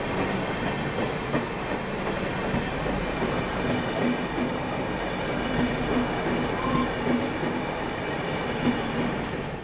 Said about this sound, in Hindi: न्यू दिल्ली की ओर जाने वाली दुरंतो एक्सप्रेस आती हुई।